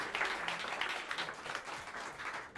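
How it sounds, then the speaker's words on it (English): A jazz club audience claps for the drummer in a brief, dense burst of applause that fades slightly toward the end, with no speech over it. "give a warm round of applause for the great Kush Abadi on the drums."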